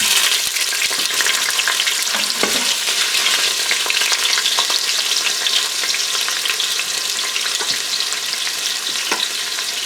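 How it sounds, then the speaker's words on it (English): Sausage fries in the pot of an Instant Pot for chicken and sausage jambalaya. A steady, close, loud sizzle crackles continuously throughout, with occasional sharper pops and no talking. "I'm going to do the sausage first. Now the reasoning behind that is I want the oils to come out of it and for it to crisp on the outsides a little bit."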